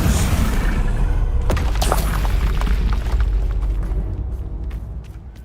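A Confringo blast spell detonates in Hogwarts Legacy with a loud, heavy boom that opens the clip, followed by crackling bursts and a rumbling tail that slowly fades over several seconds.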